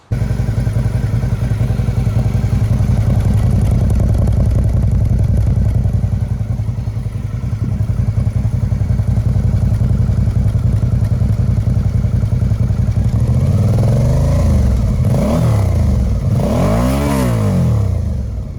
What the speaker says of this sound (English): I'll play the sound here of the motorcycle running